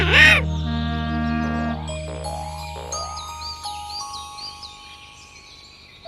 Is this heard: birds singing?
yes